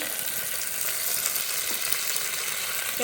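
Onion and chili sizzle in hot oil in a pan, a loud close continuous frying crackle with faint stirring throughout the short stretch.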